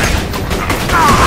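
Submachine gun rounds fired in the video game Borderlands 2, a loud continuous burst of rapid shots filling a short moment, with game sound effects layered around it.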